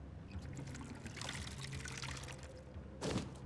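Water poured into a container to refill it at a Windhelm hall in Skyrim, a soft trickling pour under a quiet low hum, with a louder splash near the end.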